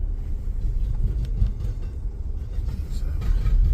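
CSX freight train with two locomotives and a mid-train DPU rolling past on track 1 near North Baltimore, Ohio, picking up speed; a steady low rumble of wheels and cars, fairly close, with faint squeals above and no talk.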